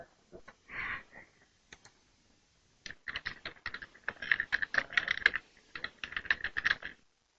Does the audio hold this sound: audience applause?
no